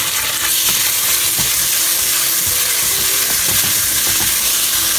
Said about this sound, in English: and we'll toss it for 2 minutes, and then we'll add ginger garlic paste and cook it